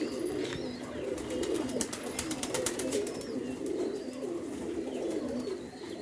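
Pigeons coo in a soft, continuous murmur of overlapping calls, moderately near, with faint clicks and a light flutter of wings now and then.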